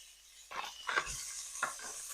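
Bacon tossed into a pan over low-to-medium heat, giving a few soft scraping stirs and light sizzling bursts, close and fairly quiet, with no talk.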